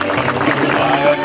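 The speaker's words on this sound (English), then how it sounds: "applause going for Pete Van Kirk, please?" Audience applause at a statue presentation ceremony, a brief burst of crowd clapping mixed with voices and some music-like tones, loud and close.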